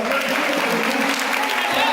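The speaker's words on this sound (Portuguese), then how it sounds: "Dê uma salva de palmas bem alta." Loud applause from a church congregation, a dense, continuous wash of clapping that holds steady throughout, with voices mixed in.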